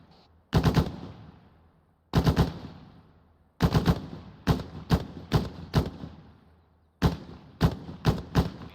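M240 machine gun firing during joint squad training: several separate bursts of loud, sharp reports, first two spaced bursts, then a quicker run of single heavy shots and a final cluster, each ringing out in open air.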